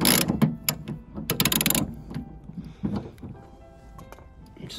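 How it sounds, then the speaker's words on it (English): Ratchet working a 10mm bolt on the tailgate of a 2018+ Suzuki Jimny, giving close, quiet bursts of clicking and mechanical rattling with pauses between them. "Just need to undo the 10mm bolt."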